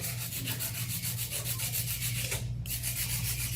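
A 100 grit file rubs steadily across a fingernail during a nail art set, giving a close, continuous rasping of even back-and-forth strokes with a brief pause near the end, and no one speaks.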